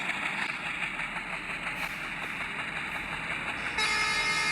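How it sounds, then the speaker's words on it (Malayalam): A vehicle horn honks in an Indian driving simulator game, a steady toot over the continuous rumble of the game's engine, growing louder near the end. "നമ്മൾ ഹോൺ എടുക്കുന്നതാണ്."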